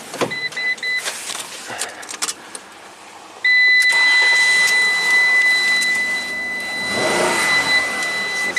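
A Ram ProMaster van with a faulty engine running on three cylinders is cranked and fires up abruptly, settling into a loud, steady close-up running drone with a thin whine after a quieter lead-in.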